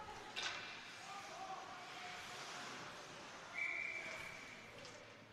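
A referee's whistle in an 18U ice hockey game gives a short, shrill blast over steady arena crowd noise, with a fainter chirp near the start and a murmur of voices underneath.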